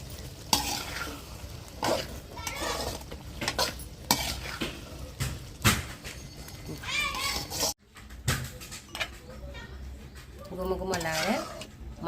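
A spoon stirs a thick Andhra-style gongura mutton curry with mint in a pan, giving close scraping and clinking against the metal over a soft sizzle, with a voice heard at times.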